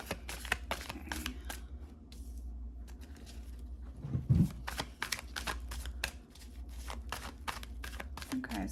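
Tarot cards being shuffled: soft, rapid riffles and pattering card flicks in quick bursts through the whole stretch, fairly faint and close, with a brief thump midway and a voice murmuring now and then.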